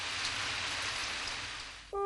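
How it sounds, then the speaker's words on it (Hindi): Cartoon rain sound effect, a steady, even hiss of falling rain that holds for about two seconds before a bright chiming tone cuts in at the end. "राइमा देखो, बारिश हो रही है।"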